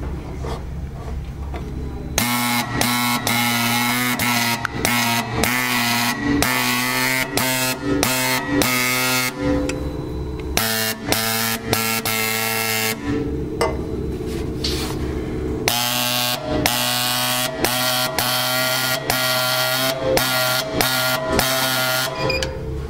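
A pneumatic SET-190 nameplate marking machine stamps a 200 mm by 20 mm metal nameplate, giving rapid, rhythmic, loud mechanical tapping in bursts separated by brief pauses and carriage shifts.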